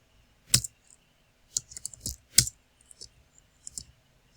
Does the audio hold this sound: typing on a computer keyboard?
yes